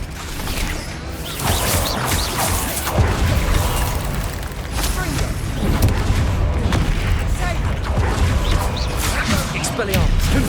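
Spell combat in the Hogwarts Legacy video game, an Expelliarmus cast amid a dense, continuous clash of magical booms, crashes and mechanical clatter, loud and close throughout with game voices mixed in.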